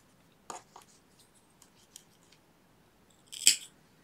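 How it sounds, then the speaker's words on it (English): Scissors snip through a crochet yarn tail while finishing cat ears for a crocheted balaclava hat: a few short, crisp snips, the loudest one near the end, in an otherwise quiet room. "And then I cut here, pull yarn through."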